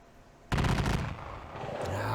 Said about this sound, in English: Oh my God, stop shooting at me